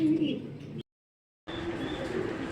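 Pigeons at a loft coo in low, soft murmurs close by, broken by a sudden silent gap before the cooing resumes steadily.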